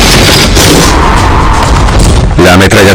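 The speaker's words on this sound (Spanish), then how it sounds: "La MG-42, la ametralladora alemana por excelencia, tenía una tasa de disparo letal." A German MG-42 machine gun fires in a loud, continuous ripping burst amid heavy battle noise and booms, with a harsh rapid rattle near the end.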